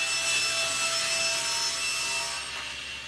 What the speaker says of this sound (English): So I'm going to cut my piece of 1/2-inch plywood right here, 16 by 48 inches.